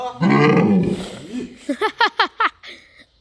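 An elephant lets out a loud, drawn-out roaring bellow, then a rapid string of about six short pulsing grunts that fade into quiet.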